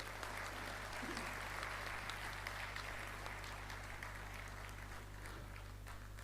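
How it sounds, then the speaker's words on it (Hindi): An audience at a Dubai poetry gala honoring Javed Akhtar applauds Shabana Azmi's arrival, a steady wash of clapping heard from a distance over a constant low hum. "मैं चाहता हूं कि उनका इस्तकबाल भी ज़ोरदार तालियों से होना चाहिए"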